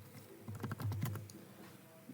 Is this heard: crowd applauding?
no